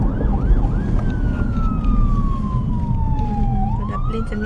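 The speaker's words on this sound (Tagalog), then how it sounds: "Agi ang ambulansya." An ambulance siren passes on a US street, its wailing tone sweeping and sliding in pitch over steady traffic noise, loud and continuous throughout.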